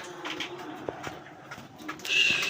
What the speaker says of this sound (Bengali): বন্ধুরা এখানে আরেক জোড়া রাজগোল্লা কবুতর আছে